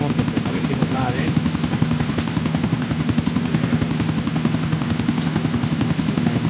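A helicopter flies in the video game GTA 4 with a loud, steady rotor chop and engine drone that holds throughout, while someone talks over it.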